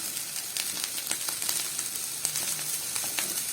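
Onion and freekeh sauté in a hot pan, giving a close, steady sizzle and crackle with occasional stirring scrapes, no voices.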